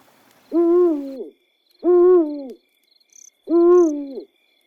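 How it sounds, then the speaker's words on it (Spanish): An owl hoots three times, each call long and drawn out with a falling tail. The hoots are loud, close and evenly spaced over faint insect chirps, used as a horror story sound effect. "Otra vez ese maldito búho"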